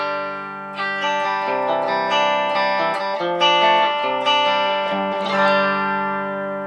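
Electric guitar with a single coil pickup through a clean tube amp set with treble at 10 and bass rolled off, ringing bright sustained chords and notes alone, close and clear.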